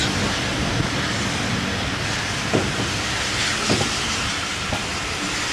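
A Severn Valley Railway steam train runs as it approaches Country Park Holt, giving a steady loud hiss and rumble with a few faint rhythmic clanks along the way.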